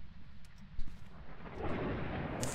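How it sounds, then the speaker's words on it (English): A deep rumble of thunder in the ghost-hunting game Phasmophobia rolls low and steady, swelling in the second half into a broad roaring wash, with no talk. "Thunder"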